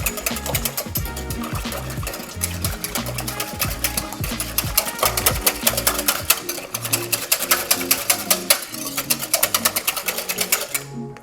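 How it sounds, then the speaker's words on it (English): Rapid, steady whisking of a custard for banana French toast with spirits, a dense rhythmic clatter of whisk against bowl running continuously and close, with no talking. "I'm gonna whisk everything together now"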